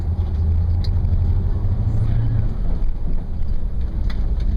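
A car driving along a road on Santorini, heard from inside as a steady low engine and road rumble with wind buffeting the microphone, continuous throughout.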